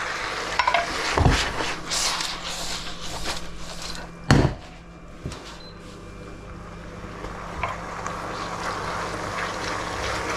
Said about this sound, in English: I'm just going to fry all these together.